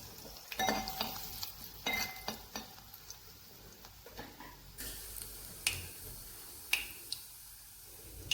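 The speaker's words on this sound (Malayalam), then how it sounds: "അല്പം കടുക് ഇട്ട് കൊടുക്കാം. നമുക്കൊരു 3 വറ്റൽമുളക് ഇട്ട് കൊടുക്കാം." Mustard seeds and dried red chilies fry in hot oil, giving a soft sizzle punctuated by sharp pops and crackles and occasional stirring clinks, fairly close and modest in level.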